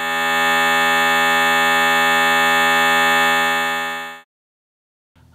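A Cheetah MS800 synthesizer plays a basic patch on tone number 72, a loud, bright, buzzy held tone sustained for about four seconds before cutting off sharply.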